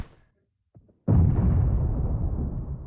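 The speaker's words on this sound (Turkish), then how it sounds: "Şöyle bir tane sola doğru bir bomba." A grenade goes off in a video game after a second of near silence and a couple of faint clicks, with a loud, close blast whose heavy rumble fades slowly over nearly two seconds.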